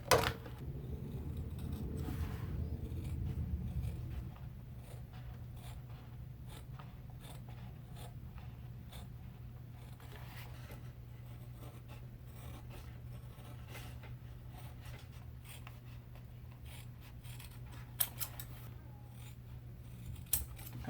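Scissors cutting traced leather pieces for a handmade Scottish sporran, a faint, steady run of small snipping clicks and blade scrapes over a low background hum, with a couple of sharper snips near the end.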